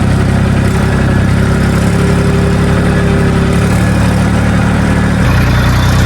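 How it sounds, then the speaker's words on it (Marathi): Loud, close diesel tractors drone and chug steadily as they drive one after another, the low rumble shifting slightly near the end as they move along; no voices. "चालले ट्रॅक्टर एकामागे एक मागे एक"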